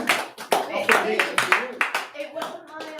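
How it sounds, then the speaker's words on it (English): A launch event audience claps in a short round, with a few sharp, distinct hand claps over about three seconds and people talking underneath. "Well, round of applause, I think."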